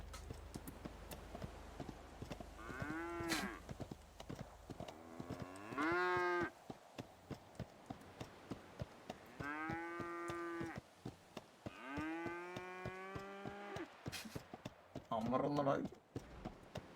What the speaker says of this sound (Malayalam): ശബ്ദം ഉണ്ടാക്കുന്നു പശു